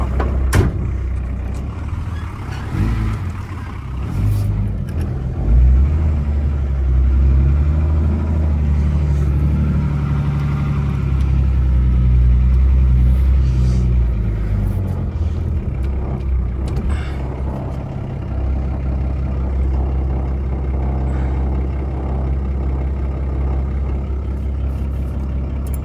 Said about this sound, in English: see if we can start it and take off